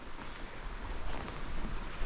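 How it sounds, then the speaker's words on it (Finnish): Steady broadband rush of strong wind buffeting outdoors on a lake island at night, with a low rumble and rising gusts, no voices. "kun tuo tuuli hakkaa juurikin pahasti tuolta"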